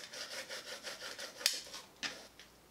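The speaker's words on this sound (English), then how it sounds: "I can then go in with my scraper and really work that into the wood." A scraper rubs transfer tape down onto wood in a series of quick, close rhythmic scraping strokes, followed by a couple of sharper ticks and scuffs near the end, with no voices.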